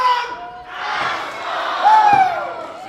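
Wrestling crowd at a Rhodes Wrestling Association show roaring its support for Jimmy House, a loud swelling crowd noise with a commentator talking over it.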